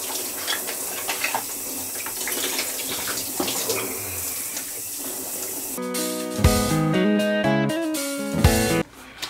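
A shower runs during washing with a Duke Cannon Superior scented bar soap, a steady hissing spray of water for about six seconds before a brighter, tonal sound takes over.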